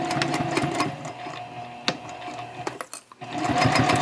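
A sewing machine runs a tote bag seam at a 3.0 stitch length with a backstitch, whirring steadily and close up, pausing briefly before starting again.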